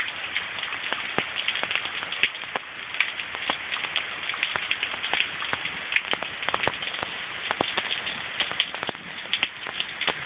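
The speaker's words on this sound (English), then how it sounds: "At least you stayed out of the rain this time." A heavy downpour during a thunderstorm patters steadily on surfaces nearby, with dense continuous hiss and scattered sharper drip impacts throughout, no voices.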